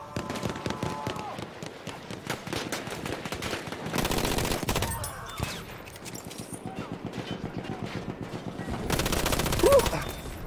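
Gunfire fills a Battlefield 1 match, with bursts of rapid automatic shots and heavier volleys coming in waves, dense and loud at times and thinner in between.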